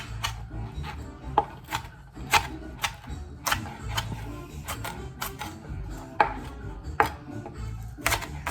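Green onion being chopped with a knife on a cutting board, a close series of crisp, uneven knife taps in a loose rhythm, fairly quiet with soft low background hum.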